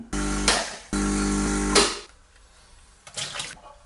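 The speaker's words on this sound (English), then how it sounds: "And now flush it 3 or 4 times with clean water again." Gaggia Classic espresso machine flushing clean water through: two loud bursts of pump hum with rushing water, each cutting off abruptly, followed by fainter dripping and a brief splash near the end.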